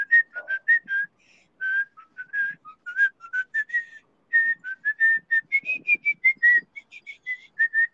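A person whistles a lively melody alone, clear and close, in quick phrases of short bright notes with brief pauses between them.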